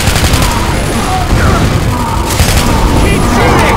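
Constant gunfire in the survival shooter DUST, loud and close, with rapid overlapping shots and booms forming a dense continuous barrage while voices call out over it.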